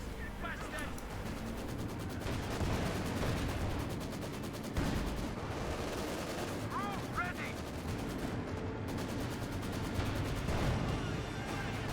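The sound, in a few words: Land Mattress rocket barrage in Company of Heroes 2 video game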